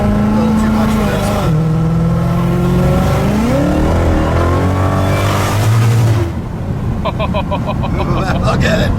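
A 2020 Shelby GT500 Mustang accelerates hard through a gear on the street, its loud engine note climbing in pitch and revs for several seconds before a shift, with a voice briefly audible near the end.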